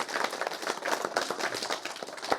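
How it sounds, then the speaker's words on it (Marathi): Audience applause at a 50th birthday gathering honouring a social worker, a dense patter of many hands clapping continuously at moderate distance, with no talking. "आपण सगळे एकदा त्यांचं टाळ्यात जोरात टाळ्या वाजून अभिनंदन करूया"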